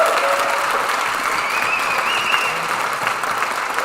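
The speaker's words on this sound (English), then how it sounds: "Let's just give these students a huge round of applause." A crowd gives school students a big round of applause at a community event, dense steady clapping that fills the whole stretch at a fairly loud, even level.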